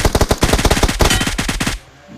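Rapid gunfire from a pistol in the mobile battle royale BGMI, a fast, even string of about twenty sharp, loud shots that stops abruptly, leaving a quiet tail.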